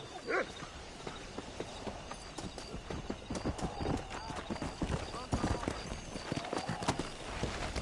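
Horse hooves galloping in the Red Dead Redemption video game, a steady rapid clip-clop running throughout over the game's ambient sound, with someone talking over it.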